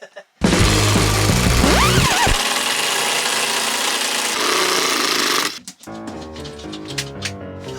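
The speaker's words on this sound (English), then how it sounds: "Exactly how you use a screwdriver." A power screwdriver whirs loudly and steadily during a narrowboat refit, with a rising pitch sweep early on, then cuts off into quieter clattering and handling sounds.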